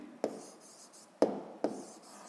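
A pen writes by hand on paper during a seventh-grade physics exercise, giving three short scratchy strokes with quiet pauses between them, close and soft.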